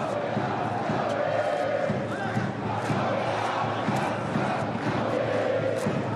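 Handball crowd at an indoor arena during Al Ahly versus Kielce at the IHF Men's Super Globe, a continuous loud roar of chanting and cheering with faint thuds of bouncing underneath.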